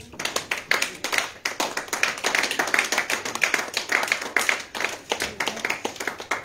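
A church congregation claps in rapid, energetic rhythm to acclaim the Lord, dense overlapping handclaps filling the room without pause, close and loud.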